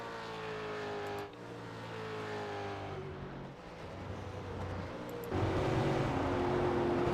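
Supercars race along the Phillip Island circuit, engines roaring steadily with shifting pitch as cars run by, a sharp swell of louder engine noise in the final seconds.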